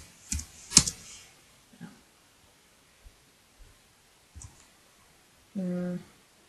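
Clicks and keystrokes on a computer while working in an Excel spreadsheet: sparse taps and a few sharper clicks spaced through the span, close and light, with a brief hum-like tone near the end.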